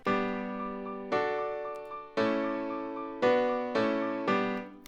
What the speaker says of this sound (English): Without the patcher, it sounds like this. It sounds so mono and closed.